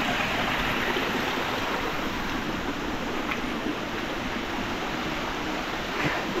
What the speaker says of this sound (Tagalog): So dito nang gagaling yung tubig.